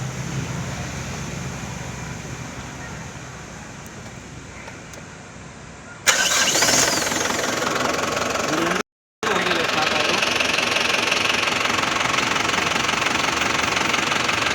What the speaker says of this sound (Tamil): நியூட்ரல் பண்ணிட்டு ஸ்டார்ட் பண்ணிட்டப்பா. இப்போ பாருங்கள், வண்டி வந்து ஒரே அடியில் அடிச்சிடும்.